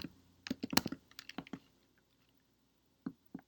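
Someone types on a computer keyboard in quick, close bursts of light clicks, with a longer pause before a couple of final taps.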